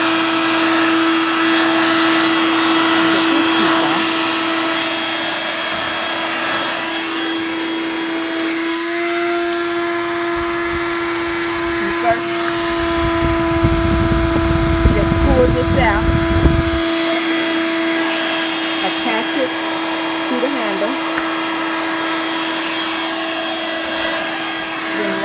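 A Dirt Devil Vibe corded bagless stick vacuum runs with a continuous loud whine and steady tone, and a low rumble swells midway as it works the floor, while a person talks over the noise.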